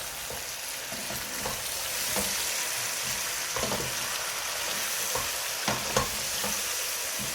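Chicken and onion frying in oil in a pan, a steady close sizzle broken by scattered scraping and clinking as a utensil stirs through the pieces, with no voices.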